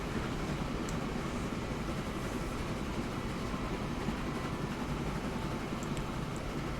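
Train running in the video game Transport Fever, a steady, dense rumble and rolling clatter with no breaks, heard alone throughout.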